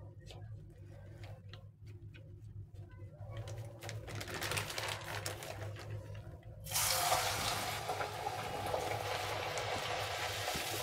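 Masala pappu chekkalu, flattened lentil-spiced rice crackers, frying in hot oil in a kadai: a steady bubbling hiss that swells sharply louder partway through, with small clicks and taps earlier on.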